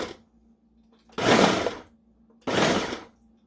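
A Ninja food processor pulsing while grinding tri tip into burger meat gives two loud, close motor bursts, each lasting about half a second, separated by quiet pauses.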